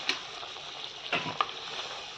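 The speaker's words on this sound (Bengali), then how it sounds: "এবার জল দিয়ে দিচ্ছি, জল যেরকম লাগবে সেরকম দেবেন" Soft bubbling and sizzling as water is added to a simmering Bengali egg curry in a pan, with a few faint clinks and stirring sounds in a quiet kitchen.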